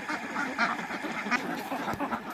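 Ducks on a small egg-laying duck farm, fenced with netting and edged with water hyacinth, quack steadily in a busy overlapping flock chorus at close range, with no voices.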